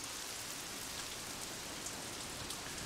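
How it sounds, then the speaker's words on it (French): Faint, even rain in the racing game Assetto Corsa rushes in a constant hiss with scattered soft drop ticks, distant and quiet, with no voices. "On va prendre vraiment la grosse pluie."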